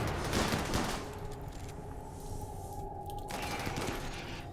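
Rapid gunfire volleys aimed at a ship in the colony-building game Rimworld (Alpha 17, modded), a dense continuous burst of shots with a steady electronic tone underneath, no talk.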